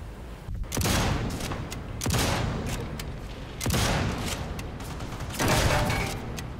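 Rifle gunfire in the video game Sniper Elite 5, a multiplayer match in an outdoor area: four loud, separate booming shots spaced a second or two apart, each with a long rolling echo tail.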